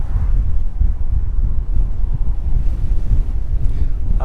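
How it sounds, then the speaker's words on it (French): Strong wind in Ürgüp, Cappadocia, Turkey roars steadily into the microphone, a constant low rumbling buffet with no break. "Alors, il y a énormément de vent"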